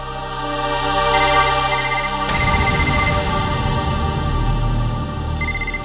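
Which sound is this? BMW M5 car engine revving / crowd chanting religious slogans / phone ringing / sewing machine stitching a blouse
phone ringing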